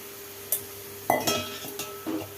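A spoon stirring tamarind pulp into a drumstick curry sweetened with jaggery, making a few sharp clinks and scrapes against the pot over a faint background hum, with no talk.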